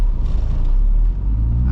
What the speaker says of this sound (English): As you can see, it is snowing and I am still driving my drift car.